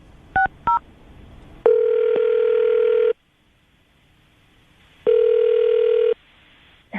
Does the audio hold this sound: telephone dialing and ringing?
yes